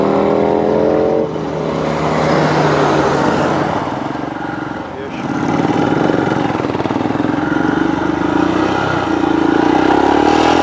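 A Royal Enfield Himalayan 411cc single-cylinder motorcycle, heavily modified as a dirt bike, runs steadily with a dip and recovery midway, the engine note loud and close under a speaking voice.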